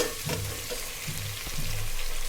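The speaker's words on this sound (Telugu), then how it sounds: "ఆనియన్స్ వేసుకొని కొద్దిగా డీప్ ఫ్రై అయిన తర్వాత టమాటాస్ వేసుకోవాలి." Onions and tomatoes frying in a pan of oil for bagara rice, heard as a close, even sizzle with a few low thumps of stirring, no voices.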